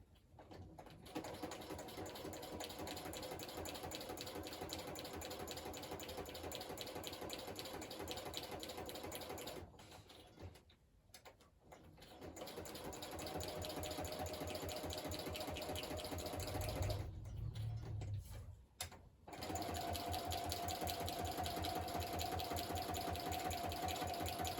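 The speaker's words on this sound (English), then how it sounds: "I'm going to run this through my sewing machine real quick" A sewing machine stitches through a paper junk journal page, its needle whirring in a steady, close mechanical drone that pauses twice briefly before running on again.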